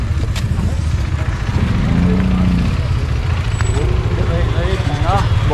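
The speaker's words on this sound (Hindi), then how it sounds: "ट्रैफिक ही ट्रैफिक चारों तरफ।" Dense road traffic jam in snowy Dhanolti, India, rumbles steadily, with engines idling and revving, a deep horn-like drone, and scattered chatter mixed into the continuous noise.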